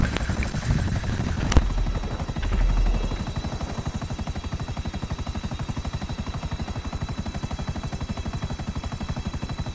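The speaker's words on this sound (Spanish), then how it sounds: "ya viene un helicóptero para donde estoy yo" A helicopter in the video game GTA V, heard as a rapid, steady chop of rotor blades that dominates throughout, loud and near, with a brief sharp crack and a short rumble early on.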